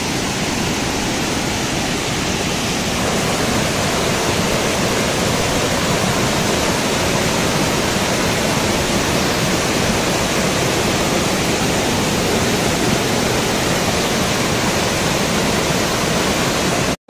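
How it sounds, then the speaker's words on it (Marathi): A waterfall in dense forest, a loud, continuous broadband roar of falling water that holds steady and close throughout, with no voices. "आज धबधबा निवांत मस्तपैकी वाहत आहे"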